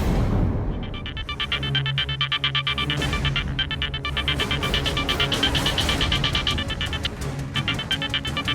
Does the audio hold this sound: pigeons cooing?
no